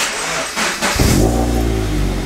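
A Toyota GT86 / Subaru BRZ engine cranks over and catches about a second in, then settles into a loud, steady idle rumble, heard up close with no talk.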